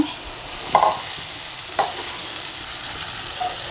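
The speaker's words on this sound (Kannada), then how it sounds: "ಈ ಥರ ಚೆನ್ನಾಗಿ ಮಿಕ್ಸ್ ಮಾಡ್ಕೋಬೇಕು" Poha (avalakki) being stirred in a pan over low heat, with a soft steady sizzle and a couple of distinct scraping strokes of the spoon against the pan, close and clear, with no talking.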